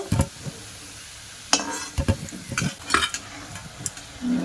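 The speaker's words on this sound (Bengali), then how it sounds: "এগুলো একটু ডিপ করে ভাজা করে নেব।" Sweet pieces deep-frying in a pan while being stirred, with repeated sharp scraping strokes over a soft bubbling sizzle, close and fairly loud.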